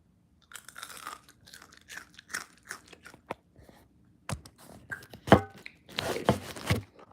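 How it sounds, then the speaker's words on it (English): Sharp, loud crunches of crispy air-fried potatoes being bitten and chewed, a dense burst of crackling bites spread across the clip, heard close up. "But the crunch you get sounds like this."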